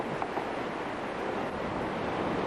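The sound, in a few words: raging flooded River Odra torrent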